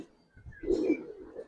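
A Giribaz coloring pigeon coos once, a soft, low, rolling call close by, with faint chirps from other birds in the background and no speech.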